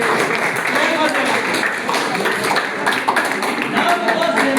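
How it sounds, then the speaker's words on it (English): An audience at an English quiz competition claps for the contestants, producing dense, continuous applause that stays at an even, fairly loud level throughout. "Clap for them."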